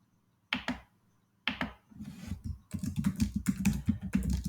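Someone types code on a computer keyboard while writing a C program: two isolated key clicks, then a run of steady, close, dense keystrokes that grows busier toward the end, with no talking.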